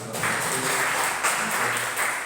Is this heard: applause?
yes